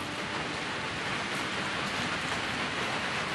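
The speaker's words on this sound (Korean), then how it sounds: "때마침 장마철이라 억수 같은 소나기가 쉴 새 없이 내리퍼붓다." Heavy rain pours down steadily during the monsoon season in a Korean radio drama, a dense, unbroken hiss of downpour at constant loudness with no voices.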